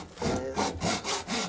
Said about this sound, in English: that's a nifty little saw with a flat blade like that